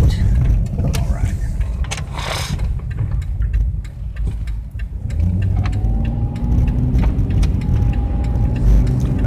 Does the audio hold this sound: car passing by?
yes